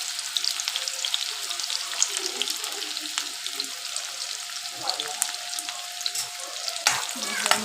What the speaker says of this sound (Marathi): आता मी ह्याच्यावर कांदा टाकते.